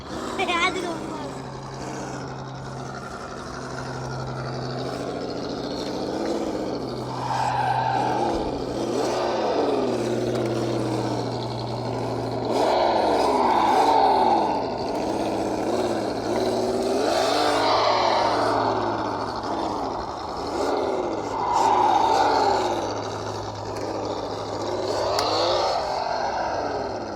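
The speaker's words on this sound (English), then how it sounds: "Like that torquey engine sound there." A sound simulator on a mini RC crawler rises and falls in repeated revving engine sweeps, steady and fairly loud, with people talking over it.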